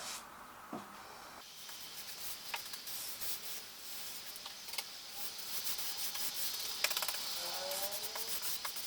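Brush spreading PVA onto a wall being prepped for bonding plaster, soft repeated rubbing and swishing strokes at close range with a few light taps, no talk.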